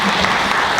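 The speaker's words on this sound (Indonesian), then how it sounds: "Tepuk tangan." An audience at an academic talk on religious moderation breaks into steady, dense applause that fills the whole short moment, with no voices over it.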